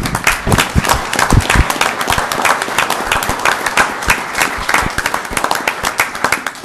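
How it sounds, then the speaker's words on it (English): People at a Kaysville city council meeting give a round of applause, a modest room of close, distinct hand claps forming an uneven, lively patter that carries on for several seconds. "Let's give him one more round of applause."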